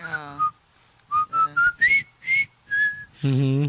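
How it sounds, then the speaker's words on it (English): A person whistles a short melodic tune, a string of clear bright notes between bits of nearby talk at the start and end. "that was you actually whistling?"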